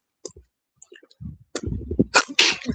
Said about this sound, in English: Sneezing, this weather.